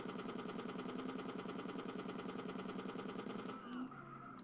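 Sustained rapid automatic gunfire from the Grand Theft Auto San Andreas video game hits a bike rider, a dense continuous rattle of shots over engine drone that cuts off near the end, followed by a couple of sharp single reports.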